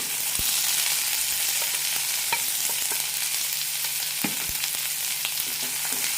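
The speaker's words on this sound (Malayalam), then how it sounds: "എല്ലാം ഒന്ന് വഴറ്റാം" Okra sautéed with onion and tomato sizzles steadily in a pan for a Kerala-style lady's finger curry, with scattered scraping stirs and spoon clinks over a constant frying hiss, no voices.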